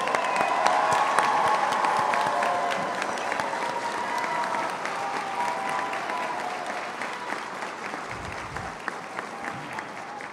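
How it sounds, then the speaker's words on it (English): Audience applause fills a graduation ceremony at a Fresno campus academy as graduates stand, a dense, steady wash of clapping with light cheering that holds at a fairly even level throughout. "give them a big round of applause"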